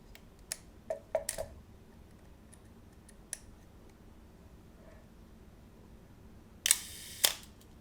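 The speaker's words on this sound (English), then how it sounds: "Let's do the same thing at a very slow shutter speed of 1/2 second." Scattered mechanical clicks from a Pentax K1000 35mm film camera, then a longer shutter release at 1/2 second with a distinct open and close about half a second apart, near and quiet.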